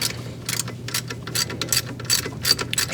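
A bolt is worked loose on a Lamborghini Murciélago engine, with quick ratcheting bursts clicking in short repeated strokes, close and fairly crisp, with brief pauses between turns.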